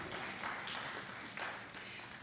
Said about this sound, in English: you can give her a round of applause for that